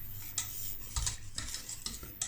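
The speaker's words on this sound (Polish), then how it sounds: "Cały czas dobrze wymieszać." A spoon stirs pudding in a pot on the stove, giving repeated scraping, clinking strokes against the metal at an irregular rhythm, close and moderately loud, with no talking.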